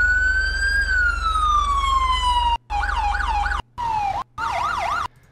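A GTA V LSPDFR mod police siren sounds loud and close: a long slow wail that climbs and falls, then choppy fast yelp cycles in short separate bursts.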